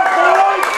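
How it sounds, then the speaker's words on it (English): Crowd at a high school football game between Mosinee and Lakeland, applauding and cheering in a standing ovation at the end of the third quarter, a steady dense wash of clapping and voices. "the crowd giving them a standing ovation through 3, 24-17"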